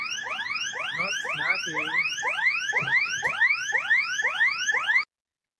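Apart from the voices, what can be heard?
alarm ringing in a played video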